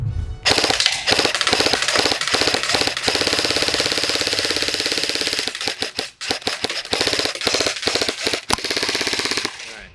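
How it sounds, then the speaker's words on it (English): A VFC HK 416 A5 airsoft rifle fires on full auto outdoors, with long loud continuous bursts of rapid mechanical clatter, one short break near the middle, and no talking. "All right, a little full auto action."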